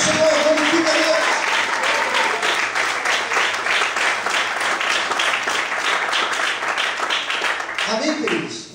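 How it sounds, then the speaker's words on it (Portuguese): Sustained, vigorous applause from a church congregation praising God, a thick wash of clapping that holds steady before tapering at the end, with faint voices near the close. "Aplauda o Senhor, glorifica Deus."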